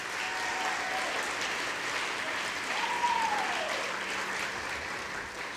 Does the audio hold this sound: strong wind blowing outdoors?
no